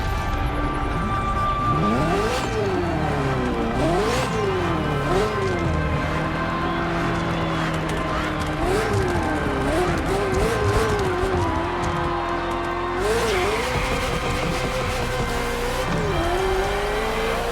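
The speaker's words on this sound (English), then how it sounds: "Ferrari F40, second vehicle of the manufacturer to earn the prestigious supercar status" A Ferrari F40 supercar in The Crew Motorfest roars steadily, its engine note rising and falling through repeated revs and gear changes, loud and close throughout.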